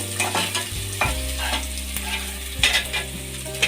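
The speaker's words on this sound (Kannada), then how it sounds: "ಈರುಳ್ಳಿ ಜಾಸ್ತಿ ಫ್ರೈ ಆಗೋದೇನು ಬೇಡ, ಲೈಟಾಗಿ ಫ್ರೈ ಆದರೆ ಸಾಕು." Onions fry lightly in a pan for jeera rice, a soft sizzle under several spoon scrapes and knocks against the pan, with a low steady hum behind.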